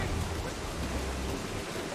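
Heavy rain pours at sea in the Assassin's Creed IV Black Flag video game, a thick, steady hiss of downpour with a low rumble underneath that never lets up.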